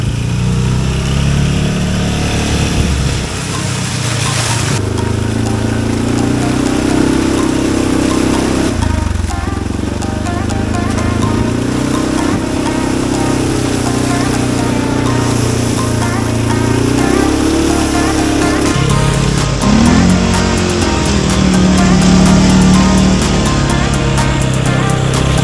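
ATV engine droning steadily while riding with no windshield or hand guards fitted, loud and continuous with rising and falling revs and some wind noise, alone throughout.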